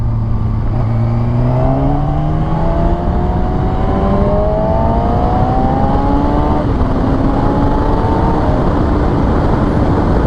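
Kawasaki ZX-6R 636 supersport motorcycle from 2014, its engine revving up through rising, climbing harmonics under steady road and wind noise, loud and close throughout with no talking.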